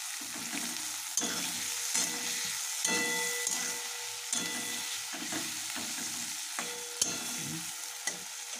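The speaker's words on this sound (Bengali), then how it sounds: "ভালো মতন ভাজা ভাজা করে নিচ্ছি।" Chopped onion, green chillies, cloves, cinnamon and cardamom frying in oil, with a steady close sizzle broken by repeated rhythmic stirring scrapes against the pan, no voices.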